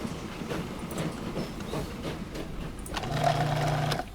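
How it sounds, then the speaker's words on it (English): A train in the railway simulation game Transport Fever 2 rolls into a station, a steady rhythmic rumble of wheels with a sustained tonal hum near the end, moderately loud and without talk. "Do we have a train coming in?"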